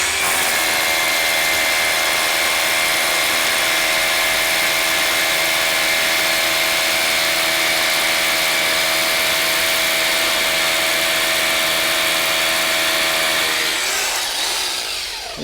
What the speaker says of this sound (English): You go down and just go right through the concrete like that.